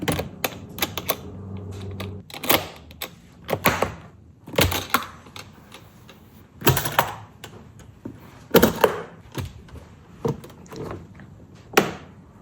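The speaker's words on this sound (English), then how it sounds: "So here's what the hinge sounds like." A series of creaks, clicks and knocks from the hinged lid of a ZuHuoGe acoustic guitar hard case being opened and shut several times, close up, with irregular spacing between movements.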